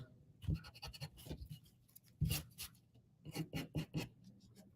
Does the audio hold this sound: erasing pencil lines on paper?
yes